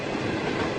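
Passenger night train in China running steadily, a dense continuous rumble and rattle of wheels on rails, close and loud, with no voices.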